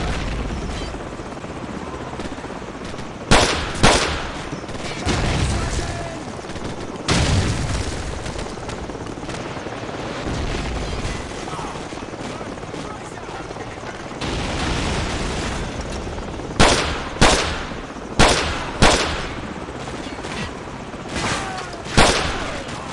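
Call of Duty 4: Modern Warfare gunfire cracks out in sharp bursts and single loud shots over a constant roar of rotor and battle noise, with heavier clusters of rapid shots near the middle and end.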